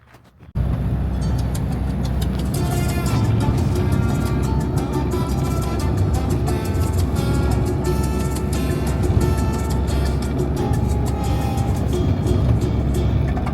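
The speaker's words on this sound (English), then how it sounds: "now I'm heading to Guayaquil with one of these microbuses" A microbus riding toward Guayaquil, Ecuador, its engine and road noise a loud, constant interior rumble that starts abruptly and runs unbroken, with faint rattles above.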